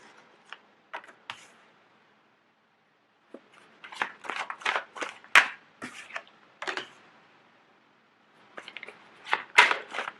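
Tarot cards are moved and set down onto a table in quick clustered bursts of crisp slaps and shuffles, separated by short quiet gaps, close and fairly soft.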